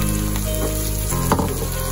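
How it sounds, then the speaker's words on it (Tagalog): Pork sautés with golden-browned garlic and onions for batchoy tagalog, producing a loud, dense, close sizzle throughout the short moment, with a slight stirring shift midway and no voices. "Igisa pa natin siya sa ating mga ingredients para lalong lumabas yung kanyang linamnam"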